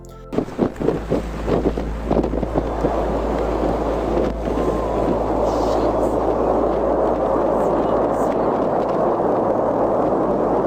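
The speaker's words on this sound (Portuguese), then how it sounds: "É possível ver como as coisas passam de empolgantes a devastadora em uma enorme explosão." A rocket explodes about 13 seconds after liftoff from Cape Canaveral: several sharp crackling bursts at the start give way to a loud, sustained, roaring rumble that fills the rest of the sound.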